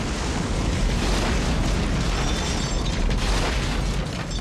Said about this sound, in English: we're arguing as this liquor store is exploding all behind us and around us and over us and onto us